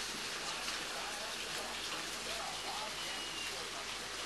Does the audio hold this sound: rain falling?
yes